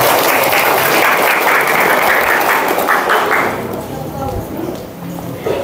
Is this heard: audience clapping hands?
yes